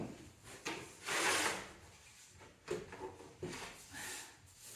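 A saw cuts a wooden baseboard in short, rasping strokes, a few separate bursts of scraping close by and fairly quiet, no voices.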